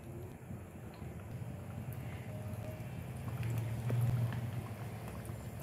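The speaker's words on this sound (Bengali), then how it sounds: "চলো, আমি সাদা তেল দিয়ে দিচ্ছি, ডুবো তেলেই ভাজতে হবে।" Mango sweets deep-frying in hot white oil, a soft, steady bubbling sizzle that swells slightly midway, fairly quiet and heard alone without talk.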